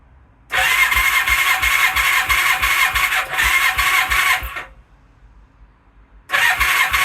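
A Suzuki Katana motorcycle engine cranks on the starter for a compression test, giving a rapid rhythmic chugging whir for about four seconds, then a pause, then another burst of cranking, close and loud.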